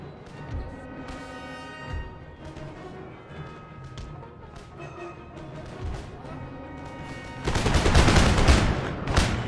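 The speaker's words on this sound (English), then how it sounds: "Volley guns dishing out some devastating point-blank damage." Volley guns firing in Empire: Total War, with scattered booming shots spaced a couple of seconds apart over a tonal backdrop, followed by a loud, sustained crackling fusillade near the end.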